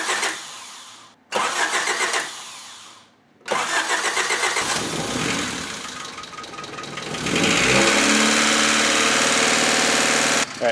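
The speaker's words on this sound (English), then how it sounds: "get it to turn over just a couple of times, see if we can get some oil in the engine, and from there we'll see if it starts." Car engine starting after sitting unused: two short bursts of cranking separated by silence, then a longer crank that catches into a rough, loud idle that settles and runs steadily.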